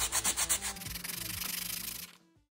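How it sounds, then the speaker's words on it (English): Light sandpaper rubs back and forth over cured epoxy resin on a picture frame. A quick run of rhythmic strokes is followed by a steadier, faster scrubbing that fades out. It is close and fairly quiet, with no voices. "I'll use some light sandpaper and see if I can clean it up a little bit."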